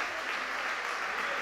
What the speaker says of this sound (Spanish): Le damos un fuerte aplauso también.